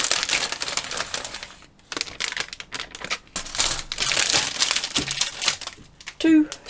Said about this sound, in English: World's loudest plastic bag, I apologise.